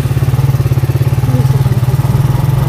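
A motorcycle engine chugs loud and close in a steady, fast low-pitched pulse, idling evenly without revving for a few seconds.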